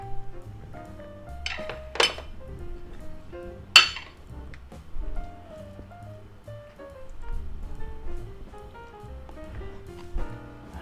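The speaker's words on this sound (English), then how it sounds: "put them on a plate." Pieces of cabbage pie are placed on a plate, making a few sharp clinks of dishes and utensils, the loudest near two and four seconds, over quiet background music.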